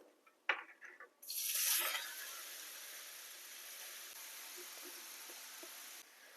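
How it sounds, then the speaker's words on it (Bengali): Grated carrot dropped into hot ghee with cracked cardamom pods, a few soft clicks followed by a sudden loud sizzle that settles into a steady frying hiss before cutting off near the end. "এবার গ্রেট করে রাখা গাজরটা ঘিয়ের মধ্যে দিয়ে দেব।"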